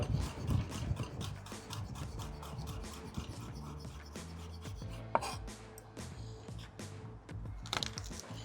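A knife chops garlic cloves on a board for a steak chimichurri, a rapid run of close, sharp, woody taps with brief pauses, loud and clear with no talking.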